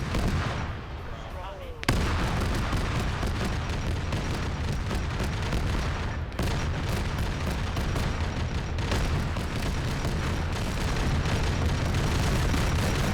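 Frag grenade explosions and heavy gunfire in a Warhammer 40K Black Templar game battle, a dense continuous barrage of booms and shots with one sharp blast cutting through near the start, loud throughout with voices faintly under the din.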